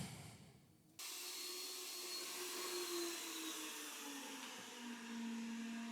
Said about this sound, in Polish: tutaj słyszeliście głośność odkurzacza